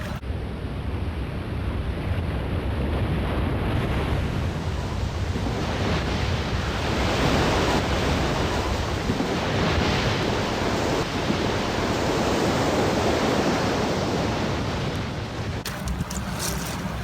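Waves wash onto the River Thames foreshore in London as a steady, loud roar that runs without a break, mixed with gusting wind noise on the microphone.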